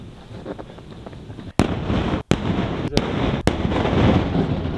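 Avalanche-control explosives detonate on a ski slope: sharp, loud blasts crack out several times in quick succession, followed by rumbling noise, amid a steady roar of wind or outdoor background.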